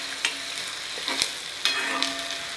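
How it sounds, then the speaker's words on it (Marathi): Onion frying in a pan, stirred over high heat: a steady sizzle with a few sharp scraping strokes of the spoon, close and without speech. "मोठ्या गॅसवर असा हलवत तो आपल्याला गुलाबी करून घ्यायचा आहे, किंवा सोनेरी रंगाचा."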